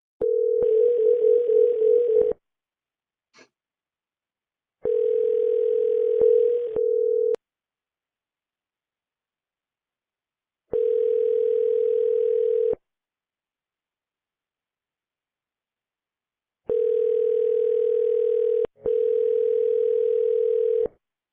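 Ringing tone on a phone line while calling a cell number, a steady pitched tone in bursts of about two seconds separated by silent gaps, repeating five times with no voices.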